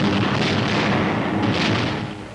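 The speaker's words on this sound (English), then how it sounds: "Explosions and fires are sucking the oxygen from the air." Wartime bombardment of a German city produces a continuous roar of explosions and fires, with heavy rumbling booms swelling and fading, loud and dense throughout.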